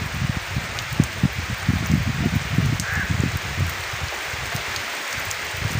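Heavy storm rain pours down steadily in a rural village, a dense, continuous hiss with scattered close drips and splashes throughout.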